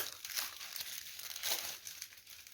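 A thermal insulated bag crinkles and rustles as it is handled in a kitchen, with several close crackling bursts of plastic over a couple of seconds and no talk.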